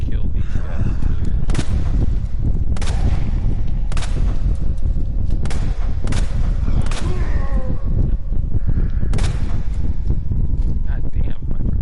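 Sharp gunshots from a Resident Evil 2 Remake firefight crack out about eight times at irregular intervals over a steady roar of game ambience and wind-like noise.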